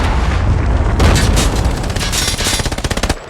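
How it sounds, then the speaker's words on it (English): A Predator missile strike explodes in COD Mobile, a heavy booming blast followed by a rolling rumble and scattered gunfire crackle that tapers off near the end. "Friendly Predator missile down. inbound."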